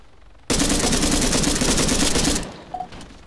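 Rapid bursts of gunfire in the video game ARMA 3 rattle in a dense, loud volley for about two seconds, then stop abruptly, followed by a couple of faint clicks.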